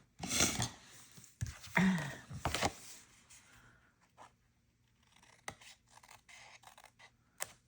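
Scissors trim paper for a Christmas craft in a few quick, close crisp snips and cuts, followed by quieter rustles and light handling sounds.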